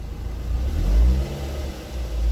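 A Ford Fiesta engine revs up to about 3,000 rpm. It gives a loud, steady, close-up mechanical drone that swells at the midpoint and holds high, with no voices.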